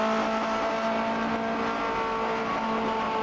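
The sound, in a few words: 1950s Ferrari F1 car engine in the video game rFactor 2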